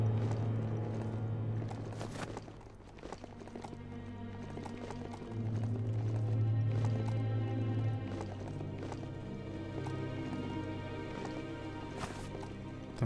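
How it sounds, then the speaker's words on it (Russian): Galloping hooves of a riding mount in the video game Biomutant, a continuous rhythmic clatter of running steps over a low droning game soundtrack, with no talk. "Ты можешь скакать быстрее, лошадь?"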